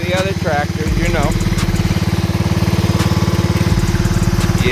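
A restored Craftsman lawn tractor engine idles steadily up close with a loud, even chugging throb, while voices talk over it near the start.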